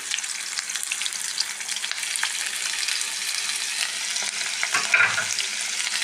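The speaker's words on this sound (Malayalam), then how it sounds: "ഒന്നര സ്പൂൺ വെളിച്ചെണ്ണ വിത്തിൻ്റെ അതിലേക്ക് ഞാൻ ഒരു പത്ത് പോറ്റ് ചുവന്നുള്ളി പിന്നെ ഇഞ്ചി വെളുത്തുള്ളി" Shallots, ginger and garlic sizzle in hot coconut oil in a pan, a steady close crackling fry with occasional stirring and no talking.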